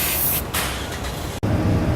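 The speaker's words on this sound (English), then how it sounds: "you can see it's got lots of access holes here, so we can spray inside there as well." Rust-proofing spray blasting into the access holes of a vehicle door, a steady loud hiss that breaks off sharply for a moment, then resumes.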